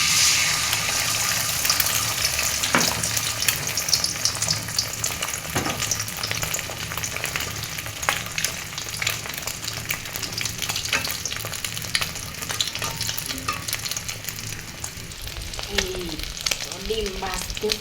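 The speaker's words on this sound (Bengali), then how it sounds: "এখন ডিমটা ভেজে নিব, অল্প তেল দিচ্ছি।" Eggs frying in a little oil in a wok, a steady close sizzle with stirring, brief watery splashes and spatter bursts toward the end, no speech.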